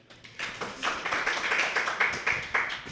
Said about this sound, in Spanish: un aplauso por favor para Rolando.